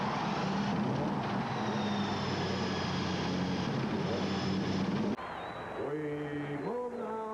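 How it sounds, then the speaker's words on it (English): A field of Indianapolis 500 race cars fires up at the speedway, a dense sustained roar of many engines with a crowd's wash underneath, then a single engine revving and shifting pitch nearby. "Gentlemen, start your engines"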